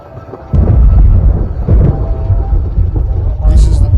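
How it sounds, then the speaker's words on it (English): Thunder during a storm with lightning rolls as a loud, continuous low rumble that swells after a quieter opening and keeps booming for several seconds, with a faint higher crackle near the end. "You hear the giant thunder voices?"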